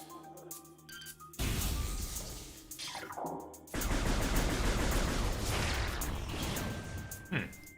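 Missile shots and blasts in Metroid Prime Remastered during a boss fight: a sudden loud blast followed by a longer roaring burst of explosions, with a voice talking over parts of it.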